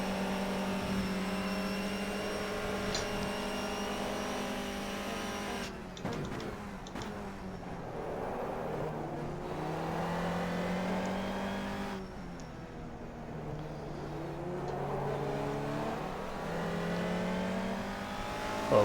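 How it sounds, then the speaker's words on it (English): A front-wheel-drive Honda Civic BTCC touring car races at Silverstone in rFactor 2, its engine droning and revving up through the gears with clear shift breaks, steady and close over a long stretch. "So we are putting up with front-wheel drive touring car race cars"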